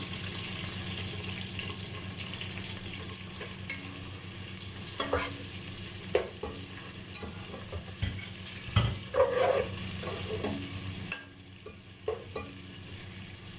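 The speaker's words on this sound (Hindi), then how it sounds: "अब इसमें एक मीडियम साइज़ का प्याज ऐड कर देंगे।" A medium onion sautés in a pan for chicken sajji pulao, giving a steady low sizzle with occasional stirring scrapes and clinks over a constant background hiss.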